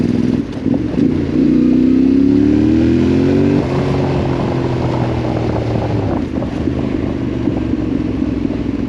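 Yamaha Tenere 700 Rally adventure motorcycle being ridden, a close engine drone rising in pitch through a gear, a brief drop at a shift, then steady cruising with heavy wind rush.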